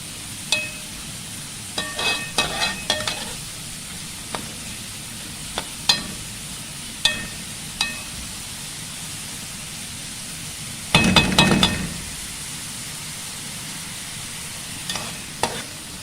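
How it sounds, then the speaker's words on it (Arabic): Onions sauté in a pan as a utensil stirs them, with a soft continuous sizzle under scattered scraping knocks and a louder burst of frying and scraping partway through. "كده البصله دبلت معايا زي ما احنا شايفينها"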